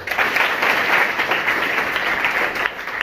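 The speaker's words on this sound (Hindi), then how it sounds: "आए एक बार फिर जोरदार ताली" Steady applause from a crowd at a school event, dense clapping that holds at an even level for a few seconds without any talking.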